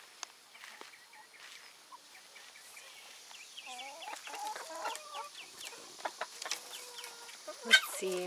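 Several hens cluck and chatter in a farmyard pen, at first faint and distant, then closer and more frequent, with a sharp squawk near the end.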